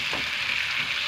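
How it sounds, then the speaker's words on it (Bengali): Onions and green chillies, chopped and tossed with black cumin seeds in hot oil for a spicy fish curry, give a short, steady close-up sizzle with no voices. "কাঁচা লঙ্কা, কুচিয়ে রাখা পেঁয়াজ দিয়ে আমরা কিছুক্ষণ ফ্রাই করে নেব।"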